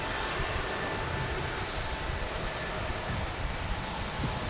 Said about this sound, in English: There in the background, we've got a Frontier flight taking off.